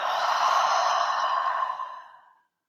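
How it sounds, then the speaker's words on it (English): A single long, audible exhale, a deep breath let out close to the microphone, steady for about two seconds before trailing off into silence. "Taking a nice deep breath in, and a big exhale."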